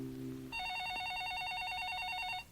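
A telephone rings once close by after a low tone, a sustained warbling electronic trill lasting about two seconds, with no voices.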